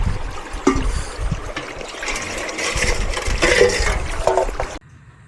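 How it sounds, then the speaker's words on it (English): Water running and trickling from a stream into a bottle outdoors near a bothy, a steady close splashing flow that continues for several seconds before cutting off abruptly. "We get some water from the stream."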